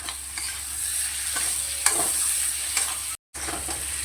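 Fried potatoes are stirred with spices in a pan, giving a steady close sizzle with soft scraping strokes and one brief dropout.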